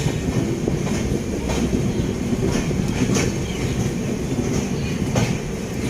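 The Amritsar-New Delhi Intercity Express rolls along with a steady, loud rumble from inside the carriage and faint periodic clicks from the rails. The sound is continuous and has no talk over it.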